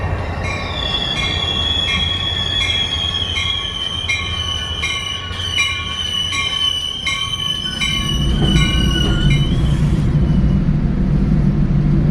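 A Caltrain commuter train runs along the rails near Palo Alto, with a steady loud rumble, repeated clicking wheel squeals and tonal whines, and a heavier roar building in the last few seconds.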